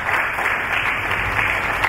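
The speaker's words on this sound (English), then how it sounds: "If you want to clap, you can please clap." Mourners at a church funeral service clap together in a loud, dense burst that sounds like a crowd heard close up.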